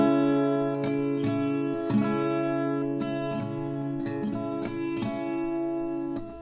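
Acoustic guitar strumming the chords of a song at a slow practice pace, sustained ringing chords with steady down and up strokes, close and clear with no talking.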